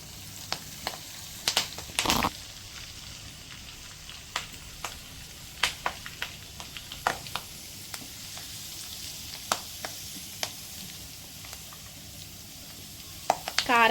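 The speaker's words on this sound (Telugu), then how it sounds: "దీంట్లోకి కొంచెం కరివేపాకు వేసుకుందాం." Curry leaves crackle in hot oil for a homemade chicken pickle, giving a low, steady sizzle dotted with sharp pops and spatters. The sound is close and runs for the whole stretch without talk.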